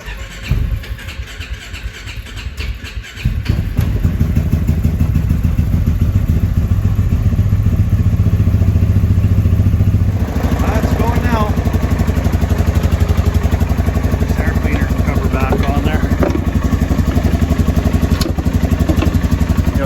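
A small farm engine with a freshly cleaned spark plug is cranked and fires, catching after about three seconds and settling into a loud, steady running drone with clattering.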